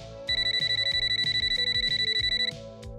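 Outgoing call on a mobile phone ringing: a steady electronic ringback tone pulses rapidly for about two seconds, loud and close, over a background of music, with no voices.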